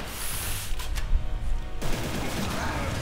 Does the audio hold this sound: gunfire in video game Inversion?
yes